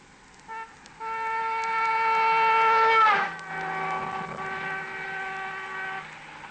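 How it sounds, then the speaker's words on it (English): A car sounds its horn continuously while approaching along a highway at about 60 miles an hour, loud and steady, then the tone drops sharply in pitch as it passes close by and fades away. "a car is approaching blowing its horn, as the car goes by, there is a sudden drop in pitch"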